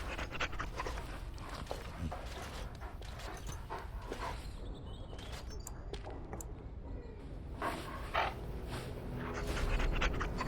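A dog pants rapidly and steadily in the video game Dragon Age Origins, quick rhythmic breaths close up over several seconds, with faint background sounds and no speech.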